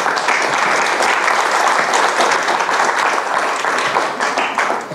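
Dense, sustained applause from a conference audience fills the room, steady and loud throughout with no break and no voices over it.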